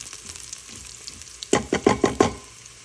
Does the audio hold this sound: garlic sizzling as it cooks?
yes